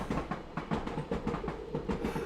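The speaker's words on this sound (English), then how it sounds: "here goes our old friend, the train" A train rolls past outside on a midsummer noon near a common, steady rumble with a rhythmic clickety-clack of wheels over rail joints, fairly loud and continuous, with no one speaking.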